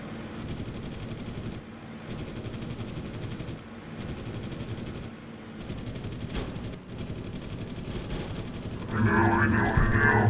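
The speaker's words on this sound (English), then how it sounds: "Tail guns from the others." Rapid bursts of aircraft tail-gun fire in a flight combat video game, dense continuous rattling with brief pauses, growing louder and more intense toward the end.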